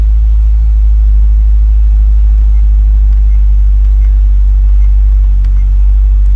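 A wrecked Chevrolet C6 Z06 Corvette's engine running with a deep, loud, steady low rumble close by, holding an even idle throughout with no clear talk over it.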